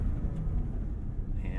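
A Toyota Land Cruiser V8 engine hums in a low, steady rumble while the 2021 SUV drives a dirt fire road, the sound continuous and close throughout with no loud peaks.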